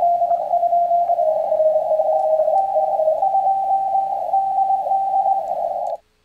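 A steady, high-pitched ham radio CW Morse tone, keyed in quick dots and dashes and set off from zero beat, sounds clearly for about six seconds above a faint hiss before cutting off.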